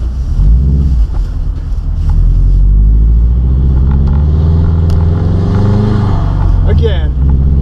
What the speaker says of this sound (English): We're sliding around in a WRX.